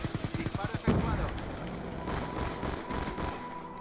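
Rapid bursts of video game gunfire crackle in an online multiplayer shooter match, starting with a quick machine-gun rattle, then continuing in scattered shots over a busy, noisy battle background.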